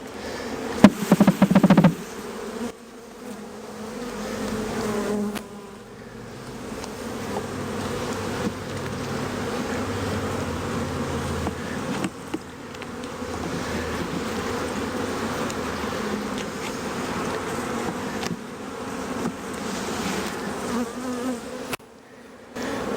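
Honey bees buzz steadily and densely at close range while being added to a hive being readied for queen-rearing grafting, a sustained insect drone with a few brief louder knocks near the start.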